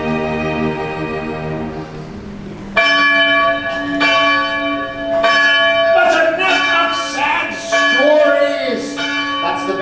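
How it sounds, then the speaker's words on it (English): A church bell rings repeatedly, close and loud, with layered strikes and long ringing overtones building over about ten seconds. It comes from an orchestra's family concert performance, and no talk is heard. "Bell for church."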